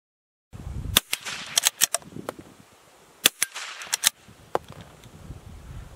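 Sharp .22 rifle shots at an outdoor shooting practice, about a dozen cracks fired at irregular intervals, loud and close, with brief gaps of quiet between them and no talking.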